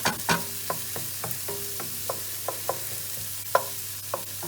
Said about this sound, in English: So I'll let the onion cook down a little bit first.